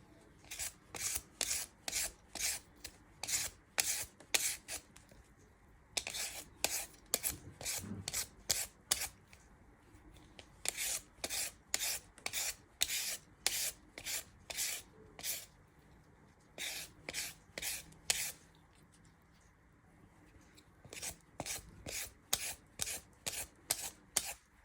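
Carrots are scraped with a handheld peeler while preparing Nigerian meat pie filling. Rapid, close, rhythmic scraping strokes come in bursts separated by short pauses, with no talking.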